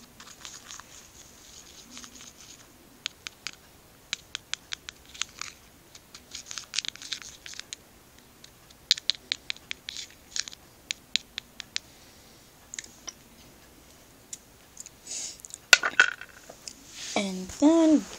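A spoon stirs a homemade milkshake, giving a steady run of light, close clinks and taps against the cup over a quiet background, with a short burst of voice near the end.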